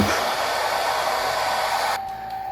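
A hair dryer blows steadily at close range over a freshly painted transparent watercolor of leaves, a loud continuous whoosh with a brief shift in tone near the end.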